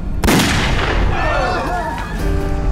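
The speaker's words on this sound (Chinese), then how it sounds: "刀家小姐，您别开枪啊，这样会坐牢的" Gunshot in a Chinese period TV drama, one sharp loud blast right at the start followed by a ringing decay and tonal echoes.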